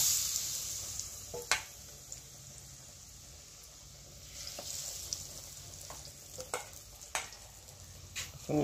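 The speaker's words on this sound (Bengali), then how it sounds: "বড়া হইতেছে কচু বড়া" Taro fritters made with gram flour fry in hot oil, giving a soft steady sizzle with a few sharp crackles and clinks scattered through it, heard close and fairly quiet.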